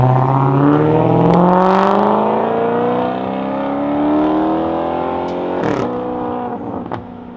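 A car engine revs and whirs loudly, its pitch sweeping up and down in long rising and falling runs before easing slightly toward the end, with no voices.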